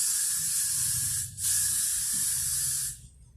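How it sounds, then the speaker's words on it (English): A steady hiss of hairspray in two long bursts, sprayed from a distance, with a brief pause between, fairly close, over a low background rumble. "Get a far away spray here so we don't rinse this thing."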